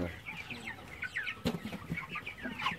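Chicken clucking at a local farm in Jamaica, a series of short, moderately faint clucks scattered through the clip, with one sharper burst partway in and a rustling, noisy outdoor background.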